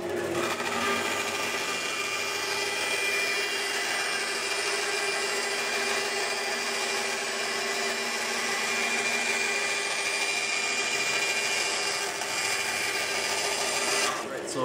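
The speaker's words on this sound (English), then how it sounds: "vertical saw, and this is crucial if you want to cut straight lines from flat pieces" Vertical panel saw cutting a flat sheet for a Corsair 200R midtower case mod, a steady close power-tool whine running unbroken for the whole stretch.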